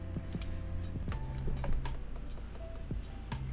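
Keystrokes on a newly built mechanical keyboard, a quick uneven run of sharp clacks with a slightly pingy ring, close and clear with no talking.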